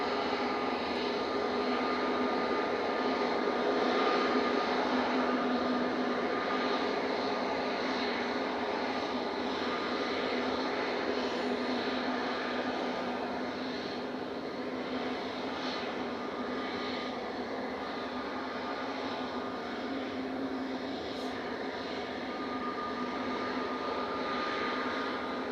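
Jet airliner engines roar steadily at Manchester Airport, a broad continuous rumble heard from a distance with no talk over it.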